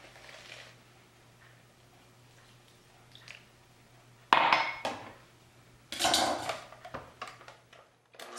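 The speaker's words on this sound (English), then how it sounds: "So now I'll mix the lime juice into my mixture." Dough being stirred and scraped in a bowl with lime juice for lime white chocolate chip cookies, giving a few loud clattering, scraping bursts over quiet background.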